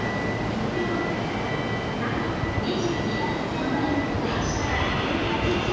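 JR East E5 series Hayabusa Shinkansen pulling out of Tokyo Station, a steady broadband rumble and whine of the departing train filling the platform, with faint station announcements and voices in the background.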